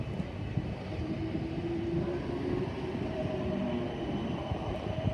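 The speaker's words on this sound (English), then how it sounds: "This is the 10:43 South Western Railway service to Richmond" Continuous rumbling roar of a South Western Railway class 455 passenger train rolling past at close range through Wimbledon station, with a faint whine running through the steady noise.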